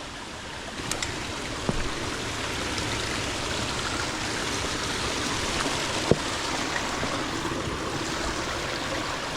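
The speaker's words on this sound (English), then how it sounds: "There's waterfalls." Small waterfalls on Wissahickon Creek in Philadelphia, swollen after overnight rain. They pour in a steady, continuous rushing roar, close and even throughout, broken only by a few faint knocks.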